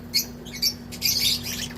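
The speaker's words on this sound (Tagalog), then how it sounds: "Nakakita kayo ngayon ng imported na African lovebirds from Indonesia." A few shrill, high-pitched African lovebird squawks and chirps in short bursts, fairly close, over a steady low hum.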